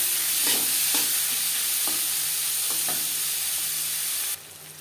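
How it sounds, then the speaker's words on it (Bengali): Chopped onions frying in a pan for egg curry, a loud continuous sizzle and hiss close by, with a few soft stirring scrapes at intervals before it suddenly drops away near the end. "পেঁয়াজ লালচে করে ভেজে নেব"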